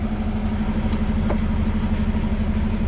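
Truck diesel engine running at idle during a pre-trip inspection, a steady low rumbling drone close and constant throughout, with no talking.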